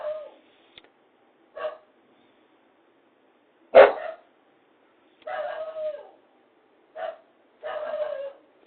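A dog gives a series of separate barks and yelps, some short and some drawn out, spaced across the clip with clear silence between them. One bark is sharp and louder than the rest. No one talks over it.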